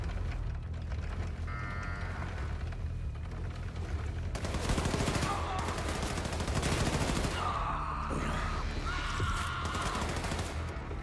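Gunfire in the shooter Wolfenstein II: The New Colossus, bursts of automatic shots from about four seconds on, loud and dense over a constant game soundscape with a tonal alarm-like sound near the end.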